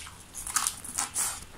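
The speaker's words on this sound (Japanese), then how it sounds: "このね、まだパリパリのところいきます" Someone bites into still-crispy fried noodles of summer vegetable ankake yakisoba, giving several close, sharp crunches in quick succession, the loudest near the end, with no talking.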